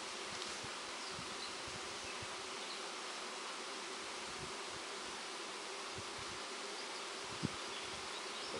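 A honey bee swarm buzzes steadily and densely while being captured on a farm, a continuous close insect drone with a few faint knocks and rustles beneath it.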